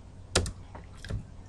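Java code being typed on a computer keyboard: a couple of quick, close key clicks and a softer tap within a second or so, with no voice.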